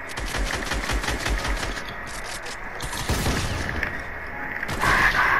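Opponent gunfire in Fortnite, rapid bursts of shots rattling close by with heavier impacts midway and a louder flurry at the end, mixed with game noise.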